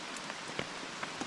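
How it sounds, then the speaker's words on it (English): Rain patters on a camping tarp at night as scattered soft drops, faint, over a steady background hiss. "hopefully this rain stops soon"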